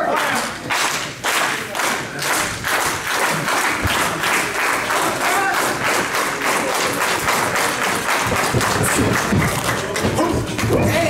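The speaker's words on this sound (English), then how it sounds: "Go ahead, clap for him now." A crowd at a backyard cookout pro wrestling show applauds, with rhythmic bursts of clapping and thumps from near the ring and a few voices mixed in.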